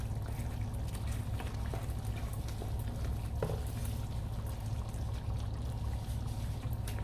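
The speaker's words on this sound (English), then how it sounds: "So now I'm going to start adding some of the noodles." Pasta noodles going into a pot of water on the stove, giving a steady low bubbling and sizzling wash with faint scraping and stirring throughout, close and even, with no talk.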